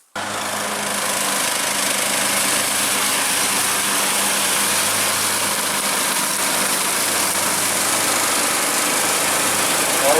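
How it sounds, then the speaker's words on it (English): A lawn mower engine runs steadily at a deer camp after dark, cutting grass with its headlights on, a loud, close, unbroken drone with a low hum underneath and no voices. "Craig's cutting grass in the dark with the headlights on the lawnmower"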